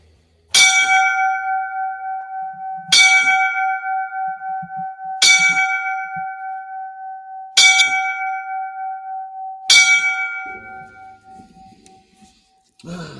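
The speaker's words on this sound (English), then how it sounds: "I'm going to give the five bells." Five single strikes of a ringing bell, evenly spaced about two seconds apart and sounded for a fallen firefighter. Each clear, loud tone rings on and fades before the next one.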